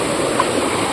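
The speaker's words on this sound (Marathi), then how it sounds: "पाणी बघा फुल पाणी आलं आहे आपल्या नदीला." Swollen village river in flood after heavy monsoon rain, rushing loud and steady at close range as a continuous broadband roar with no talk.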